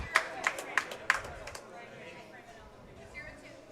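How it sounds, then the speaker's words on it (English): A few sharp claps come from a player's bench at a doubles pickleball quarterfinal, about five distinct claps in the first second and a half, then fading into faint crowd murmur with a commentator talking. "Some light applause from her bench."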